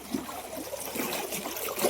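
Irrigation water flows and trickles steadily into a wheat field, a faint continuous gurgling rush with no voices.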